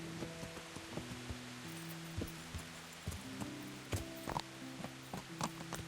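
Soft, irregular horse hoofbeats in the video game Kingdom Come: Deliverance clop along under a steady hiss of rain, with scattered louder thuds, heard at a distance and without any voices.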